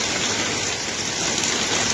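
A heavy midsummer downpour roars steadily outdoors as a dense, unbroken hiss of rain, loud and close, with no pauses.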